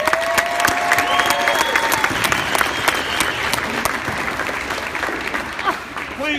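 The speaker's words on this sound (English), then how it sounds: "Please give a round of applause to her." Dense applause from a large crowd at a high school indoor marching band and flag team concert, steady and lively, with a few whistles and scattered voices mixed in.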